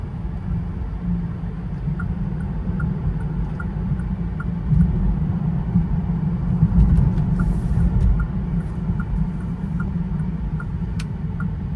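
A 2020 Bentley Continental on the road: a steady low engine and tire rumble from inside the cabin that swells slightly midway, with faint, regular ticking clicks above it and no talking.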